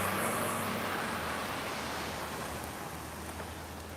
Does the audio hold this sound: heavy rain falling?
yes